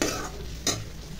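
Fish frying in hot oil makes a brief, close, steady sizzling hiss, broken by one short scrape midway.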